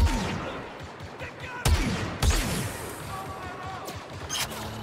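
Blaster gunfire in a Star Wars Battlefront 2 battle on Endor: several sharp, loud shots at irregular intervals over busy battle noise and distant explosions, close to the listener.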